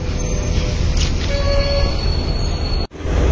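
A train at Colombo railway station in Sri Lanka gives a continuous low rumble with thin squealing tones above it, then briefly cuts out near the end.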